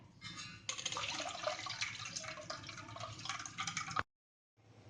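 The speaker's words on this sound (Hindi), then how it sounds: "और इसको फिर से छान लेंगे।" Homemade pineapple white wine being strained, a steady close splashing and trickling pour of liquid that runs for about four seconds, then stops abruptly before faint room sound returns.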